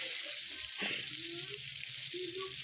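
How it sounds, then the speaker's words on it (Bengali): Cumin-tempered potatoes fry in hot oil in a pan over an earthen clay stove, giving a steady close sizzle with brief stirring scrapes and no one talking. "আলুটা ভাজা হচ্ছে"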